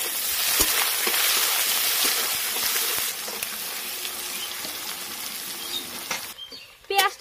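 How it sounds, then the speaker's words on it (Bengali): Chopped onions sizzling in hot mustard oil with bay leaves in a kadai, a steady loud frying hiss that eases off midway, with a brief stirring clatter near the end. "পেঁয়াজটা হালকা ভাজা করে নিয়েছি"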